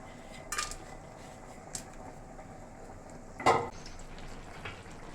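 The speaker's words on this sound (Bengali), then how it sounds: "এবার নেড়ে নিলাম" A spoon stirs mutton with whole spices such as nutmeg, shahjeera, black pepper and mace in a pot, producing a few sharp metallic clinks and scrapes against a quiet background, with one louder clatter in the middle.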